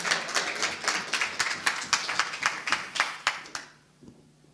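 A conference audience claps for a speaker in a burst of quick, fairly close handclaps that thin out and fade to quiet within a few seconds.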